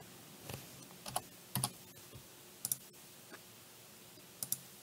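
Sparse, quiet keystrokes on a computer keyboard while entering data into ProjectWise software, arriving as separate clicks and short double taps with pauses between them, close up and alone in a quiet room.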